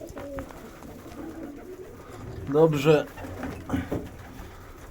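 Pigeons in a breeding loft coo nearby in a couple of soft, throaty bursts, with quiet background rustling and a short spoken word.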